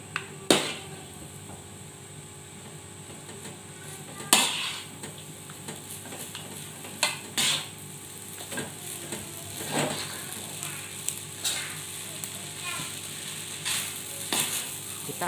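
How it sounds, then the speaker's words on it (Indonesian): Rice vermicelli being stirred and fried in a pan, a steady sizzle with periodic scraping and clanking of the utensil against the pan, close and moderately loud, no talking. "Kita aduk terus sampai semua bumbu tercampur rata."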